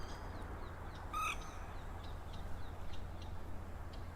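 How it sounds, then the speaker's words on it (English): A single bird calls once in the early morning, a brief caw-like cry standing out over steady low background hum, with faint scattered chirps following. "that bird said, "Amen" there."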